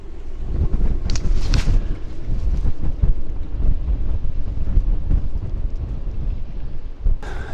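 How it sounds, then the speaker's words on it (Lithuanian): Strong Arctic wind at Svalbard, gusting around 22 knots during a storm aboard a steel yacht, roars as a continuous loud rumble buffeting the microphone, with a couple of sharper gusts and no voices. "čia vėjas tai nerimsta"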